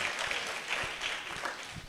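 A workshop audience gives a modest round of applause, the clapping fairly faint and uneven with a few distinct claps standing out.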